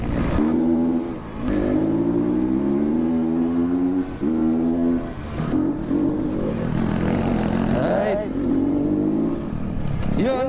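A motorcycle engine revs and drones through the gears on a rough trail ride, close and loud, its pitch rising and dropping in several surges while a rider talks over it.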